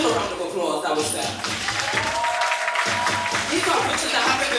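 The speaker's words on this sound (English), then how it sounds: "Give them a round of applause" Audience applause and crowd noise at a ballroom vogue miniball, a dense, steady wash of clapping and cheering that carries on through the whole stretch, with voices mixed in.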